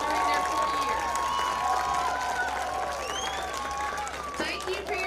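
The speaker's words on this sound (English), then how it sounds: "give them one more round of applause for all that they have done for us" A high school football crowd at Buford applauds its senior players, with clapping blended into cheering and voices calling out. It is steady and fairly loud throughout.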